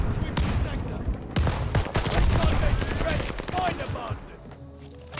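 Sharp pistol shots from a 1911 in Call of Duty: Vanguard multiplayer, several close cracks spread irregularly through a busy mix of other gunfire and game noise.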